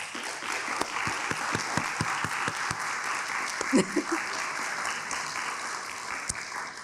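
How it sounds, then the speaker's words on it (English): Steady applause from a crowd, many hands clapping continuously with a few louder individual claps standing out. "So if I can have them stand up and you give them a round of applause."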